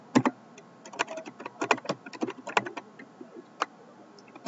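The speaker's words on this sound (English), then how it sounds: "So I'll type the email ID." Close, quick, uneven keystrokes on a computer keyboard entering an email address, with bursts of clicks and short pauses.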